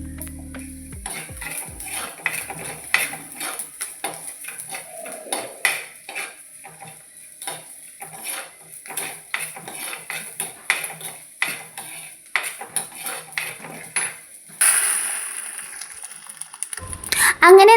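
Curry poured into a pan of tempering for a jackfruit seed and bilimbi curry, with a steady run of metal spoon scrapes and clinks against the pan and a brief faint sizzle.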